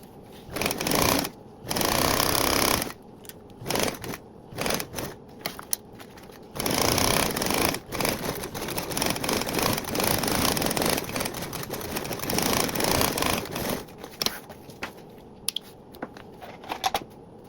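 Sewing machine basting around a tote bag with an eighth-inch seam allowance, running in loud bursts of rapid stitching that stop and restart repeatedly, with short quiet pauses between runs.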